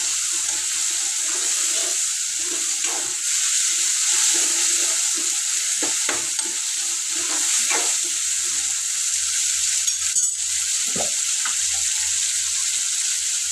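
Ginger-garlic paste fries in a hot pan while being stirred, a loud continuous sizzle with occasional scraping strokes of the spoon against the pan.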